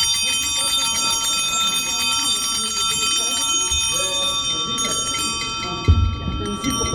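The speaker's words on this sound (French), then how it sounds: "Viens sonner les cloches." Church bells ring at a baptism with a bright, sustained metallic tone through the whole stretch, while people talk and move nearby; a louder knock comes near the end.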